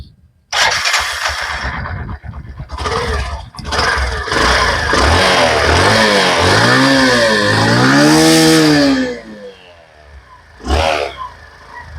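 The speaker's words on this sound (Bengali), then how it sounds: "আমি একটু সাউন্ডটা একটু গাড়িটা শুনিয়ে দিই" Engine of a 2024 Bajaj Platina 110 ABS motorcycle starting and running loudly up close, with a steady idle that swells into rising revs before cutting off, followed by a brief burst of speech.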